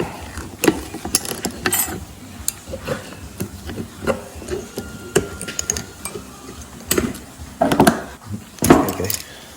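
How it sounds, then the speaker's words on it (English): Metal clips pried off car brake pads with a tool, a series of irregular sharp clicks, snaps and scrapes close up, alone with no talking. "remove our 2 pads. And we can pry the clips out."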